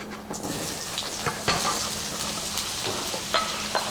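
Courgettes fry and are stirred in hot oil, giving a steady, close sizzle with scattered crackles and soft scraping of the spoon.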